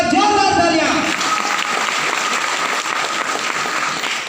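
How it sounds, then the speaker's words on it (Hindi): Loud, dense audience applause at an Indian business gathering fills the whole stretch, beginning under a speaking voice that soon drops away and leaving broad, steady clapping. "झारखंड के बब्बर से संजय सर के लिए एक बार जोरदार तालियां"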